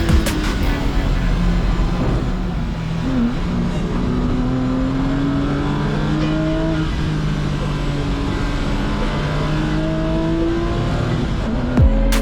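Porsche race car engines drone and shift pitch as the cars brake and downshift into the Hislop chicane, several overlapping engine tones over steady track noise.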